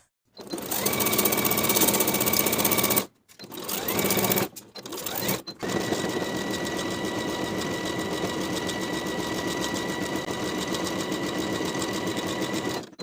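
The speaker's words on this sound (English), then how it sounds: "we'll sew the side seams from top to bottom with a 5/8 inch seam allowance" Sewing machine stitching the side seams of linen shorts from top to bottom, a loud steady mechanical whir in long continuous runs with a few brief pauses between passes.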